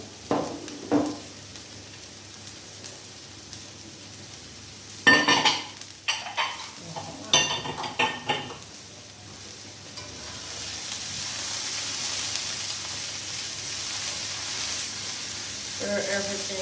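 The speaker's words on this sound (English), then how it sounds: "now I'm gonna add the courgette and the leek." Courgette and leek go into a pan with scampi: a few clattering drops and stirring scrapes, then a steady, fairly loud sizzle of frying vegetables that keeps going, with brief speech at the very end.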